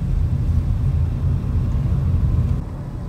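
A car on a residential road accelerating up to speed on its own under openpilot control, heard from inside as a steady low engine and road rumble with no one speaking.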